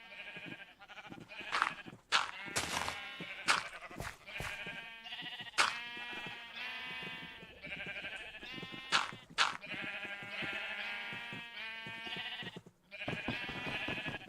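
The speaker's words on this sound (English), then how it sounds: "The sheep are having a tribunal." Many sheep in Minecraft bleat in overlapping bursts, a dense, continuous chorus of repeated baas at close range with no talk over it.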